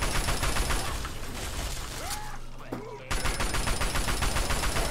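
Minigun fire in the video game Fallout 3 sounds as a dense, continuous stream of rapid shots across most of the clip, with a brief dip in the middle before the steady roar resumes.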